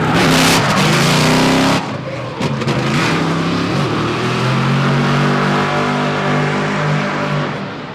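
Drift car skidding at a Yas Marina drift event in Abu Dhabi: a loud engine roaring close by, then screeching, squealing tires with the motor revving through a long slide.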